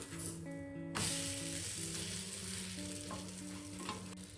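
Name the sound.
bread omelette frying in pan after flipping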